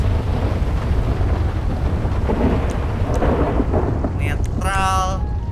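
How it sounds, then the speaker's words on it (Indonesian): Thunderstorm weather in the video game GTA 5: a continuous roaring rumble of rain and thunder fills the scene, loud and steady, with a brief electronic chirp near the end. "Thunder."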